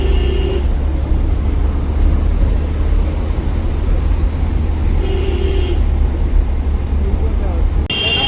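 Steady road traffic rolls past on a busy highway heading into Dadar, Mumbai, a continuous loud rumble of cars, buses and trucks with brief hissing bursts like air brakes, under some background speech.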